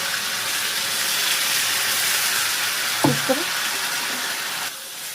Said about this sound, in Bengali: এবার এই বেটে রাখা মশলাগুলো এবার তেলে দিয়ে দেবো, দিয়ে সুন্দর করে এটাকে কষিয়ে নেব।